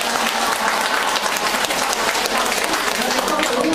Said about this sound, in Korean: 서로에게 잘했다고 박수 한번 쳐주세요